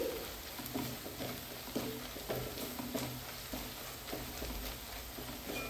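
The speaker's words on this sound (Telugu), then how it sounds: "కారం వేసిన తర్వాత ఒకసారి అయితే కలుపుకోవాలి" Onions frying in oil with chili powder, stirred with a spoon: a constant close sizzle with regular scraping strokes against the pan.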